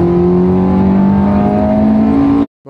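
A rebuilt Ferrari engine revs loudly and close up while driving, holding a strong rising, droning tone for over two seconds before cutting off abruptly.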